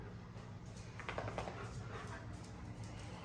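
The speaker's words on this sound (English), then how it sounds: "let me grab a cameo of these crazy dogs" Dogs panting and whimpering indoors, a steady breathy panting with brief high whines around the middle, close to the recorder with no talk.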